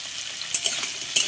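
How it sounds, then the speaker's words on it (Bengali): Slices of pointed gourd (potol) sizzle in hot oil left over from frying fish, salted as they cook, with a steady crackling hiss and a few louder spatters and stirring scrapes. "শুধু পটল লবণ দিয়ে ভেজে নিচ্ছি।"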